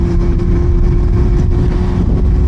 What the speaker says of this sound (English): I upgraded the exhaust to the Yoshimura R77 exhaust